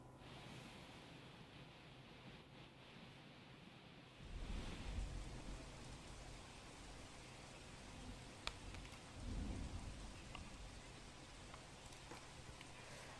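Heavy rain during a cloudburst in Porbandar, about fourteen inches within hours, pours as a dense, steady hiss of broadband noise with deeper rumbling surges that swell midway, moderately distant and continuous.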